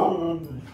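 A husky makes a short whining, yowling vocalization close by, drawn out and falling in pitch over under a second, with no speech over it.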